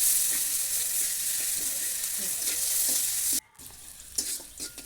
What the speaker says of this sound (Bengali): এলাচ, গরম মশলা, কিছুটা জিরে, কেটে রাখা পেঁয়াজ কুচি দিয়ে নাড়াচাড়া করব